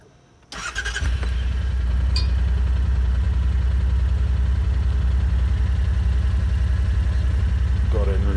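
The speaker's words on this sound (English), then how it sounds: "Fired up here, it's extremely quiet." A 2019 Yamaha Wolverine X2 side-by-side starts up after a brief quiet moment, then settles into a steady, low, even idle rumble that continues to the end.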